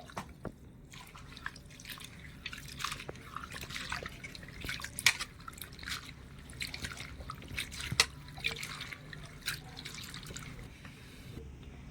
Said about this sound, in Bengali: এবারে জল দিয়ে একটু পরিষ্কার করে ধুয়ে নিতে হবে দুই তিনবারের মতন জল পাল্টে পাল্টে